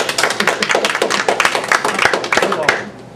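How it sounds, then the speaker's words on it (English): Brief, close clapping from a small group at a Brattleboro Housing Partnerships meeting, a quick flurry of hand claps that thins out and stops after about three seconds. "Do I hear any applause?"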